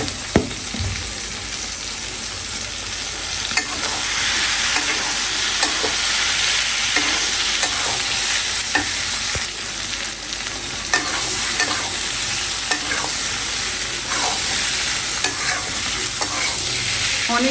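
Boiled taro pieces stir-fried in a pan with fried shrimp, giving a continuous, fairly loud sizzle broken by regular spatula scrapes and stirring strokes, with no voices.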